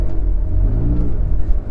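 A 2009 Porsche 911 Carrera 997.2 engine pulls at low revs while short shifted around 3000 rpm, giving a steady, loud, deep rumbling drone throughout with no talking.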